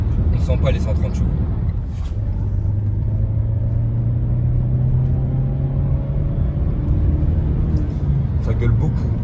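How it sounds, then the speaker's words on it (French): Steady drone of a 130 hp engine in a facelifted 2019 Renault Captur running at high revs, heard inside the cabin: a sustained tonal hum over road rumble, with people talking briefly over it. "le moteur on l'entend beaucoup à haut régime, c'est dérangeant."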